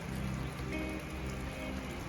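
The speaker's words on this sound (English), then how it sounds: "it's raining" Steady rain falls outdoors in the countryside, a dense, continuous hiss of drops on surfaces, close and even throughout with no voices.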